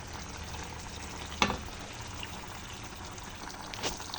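Sayote and sardines simmer in a pot with a soft, steady bubbling and light sizzle. A couple of brief clinks or stirs stand out above it, and no one talks.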